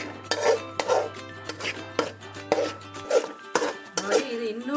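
Metal utensils scrape and clank against pots as a cooked leaf chutney is scooped into another vessel, an irregular run of close knocks and clinks while a person talks.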